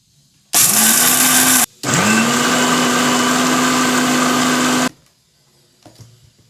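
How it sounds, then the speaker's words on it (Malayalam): Mixer grinder powdering salt, pepper and chutney powder ingredients, a loud close motor whine running in two bursts, a short one then a longer one, followed by faint clatter of the jar after it stops. "ഇതെല്ലാം കൂടെ ഒന്ന് പൊടിച്ചെടുക്കാം"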